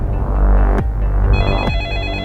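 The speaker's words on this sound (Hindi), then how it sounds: "फोन उठा लो।" A telephone rings loudly and close in repeated electronic trills, two bursts marked by sharp onsets, with a steady hum underneath and no talking.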